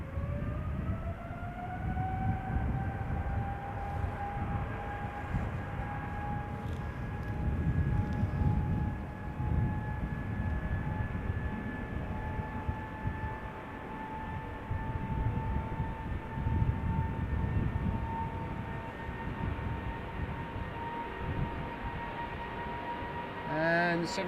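A 20-year-old KLM Boeing 777-200 airliner, registration PH-BQB, at Schiphol Airport, producing a steady, continuous engine roar with a high whine that slowly rises in pitch, heard from a distance for the whole stretch.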